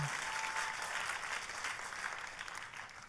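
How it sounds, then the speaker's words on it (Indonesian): Faint, distant applause at a church sermon, given in praise of Jesus, a soft continuous patter of clapping heard on its own. "boleh saya dengar tepuk tangan yang paling meriah buat Yesus Tuhan kita"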